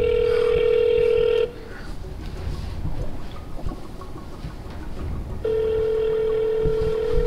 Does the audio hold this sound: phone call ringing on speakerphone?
yes